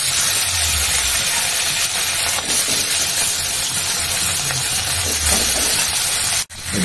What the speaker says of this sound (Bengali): অর্ধেক ঘি আর অর্ধেক তেল দিলাম, মানে এক চামচে 1 চামচা করে 2 চামচা দিয়েছি। এবারে প্রথমে কিন্তু আলুগুলো ভাজবো।